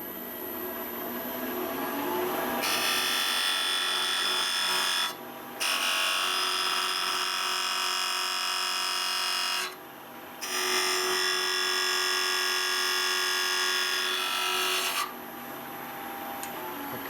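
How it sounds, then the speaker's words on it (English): A wood lathe turning a lidded box hums with a loud, steady mechanical whine while a parting tool cuts. The whine cuts out briefly twice before resuming at the same level, with no talk. "So let's turn the lathe on."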